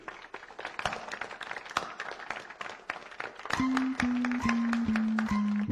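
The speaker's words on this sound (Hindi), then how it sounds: "चलो रवि के लिए तालियां।" Scattered hand clapping from a small group in a classroom, a round of applause for a student, with a steady tone appearing partway through.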